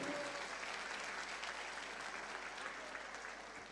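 Applause at a village culture and solidarity association's traditional evening, a broad, even roar of many people clapping in a hall, heard at a distance and fading slightly toward the end, with no speech over it.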